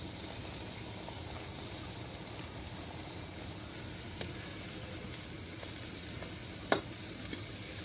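Potatoes and cluster beans fry in a pan with a soft, steady sizzle, punctuated by occasional light scrapes and clicks of stirring, close and fairly quiet.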